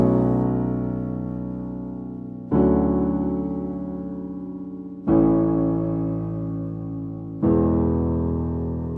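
Piano chords from the chorus of a song, played slowly as four sustained chords, each struck about every two and a half seconds and left to decay, close and clear with no talking.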